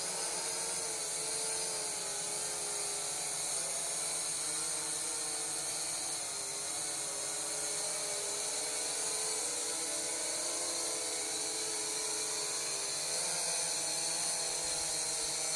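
A small SJRC S70 drone whines steadily with a high, buzzing motor tone that holds constant and close for the whole stretch, pitch shifting slightly as it hovers and descends, with no voices.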